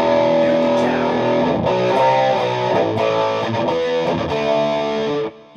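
Sustained, heavily distorted electric guitar chords from an Ibanez JEM with a sustainer, ringing out with rich harmonics, fading abruptly at the end.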